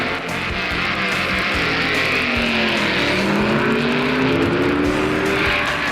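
Drag race between a 1962 Plymouth with automatic transmission and a four-speed Corvette, loud engine roar with rising revs and shifting tones sweeping through, continuous and close.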